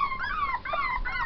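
A puppy from a litter of ten whimpers and cries in high, wavering, nasal whines, two or three drawn-out cries in quick succession, close and fairly loud with no talking.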